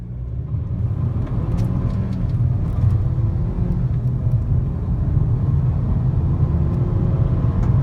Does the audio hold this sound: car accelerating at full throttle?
yes